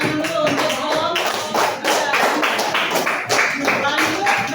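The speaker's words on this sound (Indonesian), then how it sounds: "Ya, berikan tepuk tangan dulu untuk kelompok" Classroom students clapping for a presenting group, loud close-up hand claps in a busy, uneven patter, with voices mixed in underneath.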